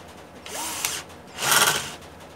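A Mondial impact drill driver spins up twice while driving a screw, a short whirring burst followed by a louder, longer whine with a rattling impact edge, close up and without talk.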